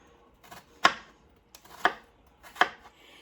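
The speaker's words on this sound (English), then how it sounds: "I'm going to slice again all the way through to the cutting board" A knife slices through an onion down to a cutting board in three sharp, separate chops about a second apart, close and crisp against a quiet kitchen.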